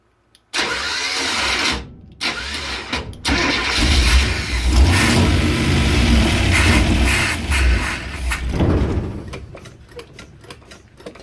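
A camper van engine with a freshly rebuilt carburetor fires up and runs loud and rough for several seconds, surging and sputtering before it falters and cuts out.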